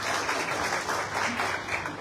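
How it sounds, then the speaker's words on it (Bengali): A crowd claps at the Bachelor Point Season 5 press meet, producing a steady, fairly close wash of applause with a faint voice underneath. "করতালি চাই নিজেদের জন্য"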